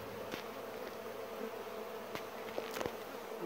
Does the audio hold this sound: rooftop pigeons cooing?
no